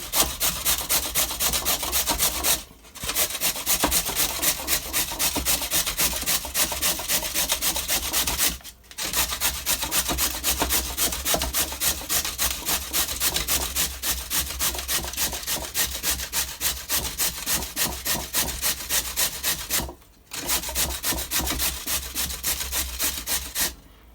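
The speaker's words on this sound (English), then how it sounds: "I'm just going to grate the carrot." A carrot is grated by hand against a grater in a continuous run of rhythmic, close scraping strokes, broken by three brief pauses.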